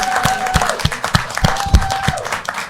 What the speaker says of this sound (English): give Diane a round of applause for being down here today